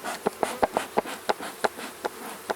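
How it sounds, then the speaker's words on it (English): Honey bees around an opened beehive in spring, a faint buzzing background punctuated by a rapid series of short sharp taps or ticks, roughly a dozen in quick uneven rhythm. "now there's a bee that's not at all happy"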